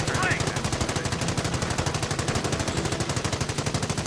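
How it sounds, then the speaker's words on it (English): A machine gun squad in the Company of Heroes video game fires a long, rapid, evenly paced burst of automatic gunfire, loud and continuous from start to finish. "The MG will fire out the back, like that."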